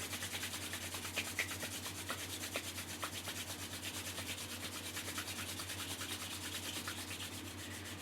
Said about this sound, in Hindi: Again rub your palm.